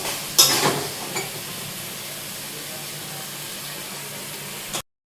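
Spice paste frying in a pan after a splash of water, a sharp hissing burst at first that settles into a steady sizzle before cutting off abruptly.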